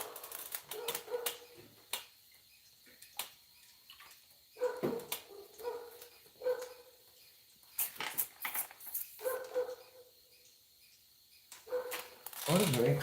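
A dog barks in short, scattered bursts, fairly distant and intermittent, over a quiet background with a few sharp clicks.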